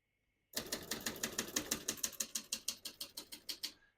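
A 1970 Facit 1620 portable typewriter types after a brief silence, a steady run of about twenty sharp mechanical keystrokes clacking in quick even rhythm, close and crisp.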